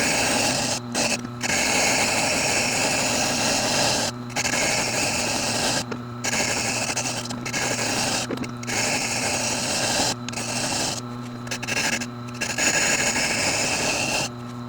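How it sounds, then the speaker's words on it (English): A Tormek sharpener's stone wheel is trued flat, heard as a steady, loud grinding drone with a motor hum that runs continuously, broken by several brief dropouts, with no talk over it. "flatten out the wheel so that it's a consistent height all the way across."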